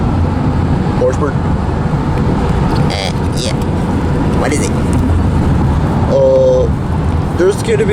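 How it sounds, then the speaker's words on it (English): Steady road traffic hum and passing vehicles surround a car stopped in the Philippines, with people talking over the continuous rumble. "There's gonna be there's a lot of traffic on the other side."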